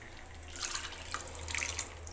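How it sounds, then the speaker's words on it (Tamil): Water poured into a pot of ridge gourd and groundnut kolambu, a steady close trickle and splash that begins about half a second in and keeps running to the end. "இதுக்கப்புறம் இதில் வந்து வாட்டர் ஆட் பண்ணிக்க போகிறோம்"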